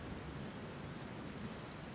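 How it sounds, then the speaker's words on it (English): Heavy rain pours steadily, a dense, constant wash of noise with no breaks and no voices. "It was raining heavily"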